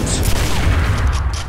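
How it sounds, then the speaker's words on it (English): Gunfire in the video game 007 NightFire: a dense, loud burst of shots with booming low-end rumble, continuous through the short moment. "Should I shoot him? I'll shoot him."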